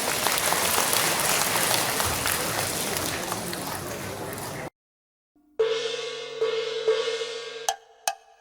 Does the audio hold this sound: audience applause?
yes